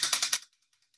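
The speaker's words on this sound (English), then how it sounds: "And I have my clacker here, right here" A hand-held clacker rattles in a quick burst of four sharp wooden clacks close by, followed by a few faint trailing ticks, with no voices.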